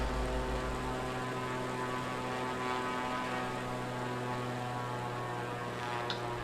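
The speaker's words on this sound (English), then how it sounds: "These people should be really concerned about a plane flying so low over their houses" Low-flying propeller plane in Flight Simulator, passing over houses: a steady engine drone with a strong low hum runs continuously and evenly throughout, with no voices.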